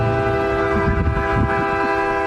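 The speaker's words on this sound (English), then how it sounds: "hearing that train horn" A loud train horn mounted on a house on a residential street in Van Nuys blares in one sustained, steady, chord-like tone over background rumble.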